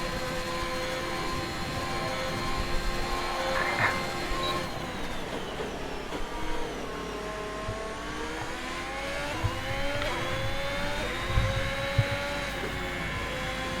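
A Formula 1 race car engine from the F1 2021 video game drones on an out lap, its whining pitch sweeping up and down through gear changes, steady and fairly faint with no talk.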